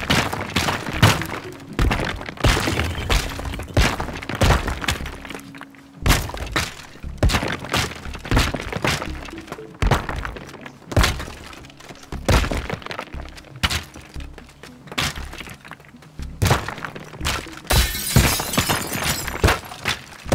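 Structures break apart and collapse in the destruction game Teardown, a dense run of loud cracking, thunking and shattering impacts, some glassy, repeating throughout with brief pauses.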